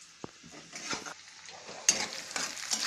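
Onion sizzling and being stirred in a pan for Schezwan fried rice, a short burst of frying hiss with a few sharp spoon scrapes and clicks against the pan, close and moderately quiet, no talking.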